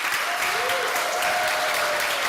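An audience at a Rotary Club luncheon meeting claps for newly inducted members, producing dense, steady applause throughout with no break.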